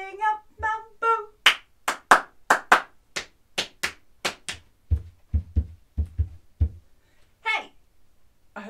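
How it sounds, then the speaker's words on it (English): Feet stamping a rhythm in a primary school music lesson, sharp sparse thuds and claps in a steady pattern, with a voice chanting along between and over the stamps. "I hope you can hear my feet."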